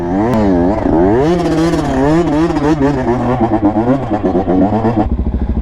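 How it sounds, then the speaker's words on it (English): A street motorcycle ridden off-road in a dirt lot revs hard and close, its engine pitch swooping up and down repeatedly before settling into a lower, choppy idle. "We got some street bikes off-roading, bro."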